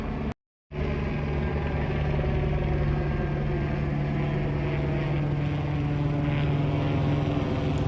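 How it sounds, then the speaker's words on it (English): A steady, loud rotor and engine drone from a police helicopter overhead during a pursuit in Orange County, California, constant throughout after a brief dropout near the start. "Second helicopter is OC Sheriff."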